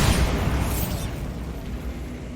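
A Bombardo spell blast from Hogwarts Legacy erupts in a loud, broadband burst, then a rumbling tail fades out over a couple of seconds, with no talk.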